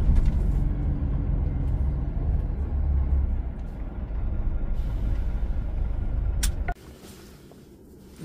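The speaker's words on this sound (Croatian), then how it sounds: "I evo ga prvi kamion." A large truck engine rumbles close by, heavy and steady, then the loud drone cuts away near the end, leaving quieter background hum.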